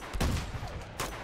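Gunfire from a PS4 Uncharted 2 remaster firefight, two broad bursts of shots mid-distance over a busy, noisy battle background.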